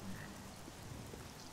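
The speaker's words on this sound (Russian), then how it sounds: "Дождик пошел, неприятно." Steady rain falling in the Oblivion video game, a continuous soft hiss and patter at low level with faint croaking frog-like calls mixed in, no voices.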